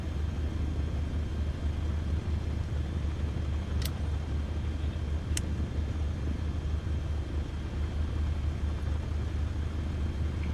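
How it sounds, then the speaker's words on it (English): Steady airplane engine drone in Flight Simulator 2024, a constant low rumble held at even volume throughout, broken only by two faint brief clicks. "I hear a plane in the background"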